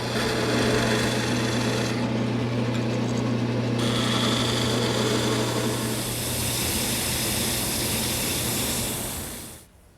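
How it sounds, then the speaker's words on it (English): Skew chisel cutting a V-groove into a spinning wooden croquet mallet on a lathe, a continuous rasping, whirring cut over the motor's steady drone, fading out at the end. "The next step is to take this skew chisel and make a V-cut right along this layout line."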